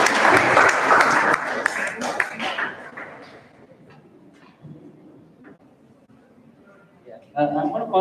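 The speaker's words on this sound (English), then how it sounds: "Give a big round of applause." Applause from a debate audience, dense and loud for the first three seconds, then fading out as voices murmur in the hall.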